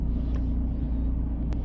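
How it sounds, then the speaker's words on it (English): A car engine idles steadily nearby, a low even rumble with no speech. "we've got the engine running"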